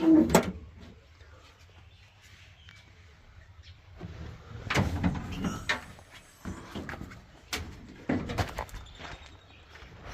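Several doors of a Belarus 80 MTZ tractor are opened and shut with thuds and clunks, alongside scattered knocks and faint background voices.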